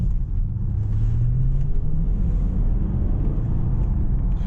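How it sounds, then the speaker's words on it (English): A 2017 Range Rover TDV8 Autobiography with a V8 diesel accelerates, giving a deep, steady low rumble heard from inside the cabin as the engine note climbs briefly and then holds. "just let me finish the video with a short acceleration from the V8"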